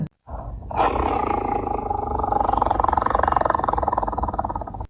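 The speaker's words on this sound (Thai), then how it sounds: "พรางเงยหน้าส่งเสียงคำรามรั่น" A Thai were-tiger, a saming, lets out a loud, sustained tiger roar that rises suddenly and rumbles steadily for several seconds without a break.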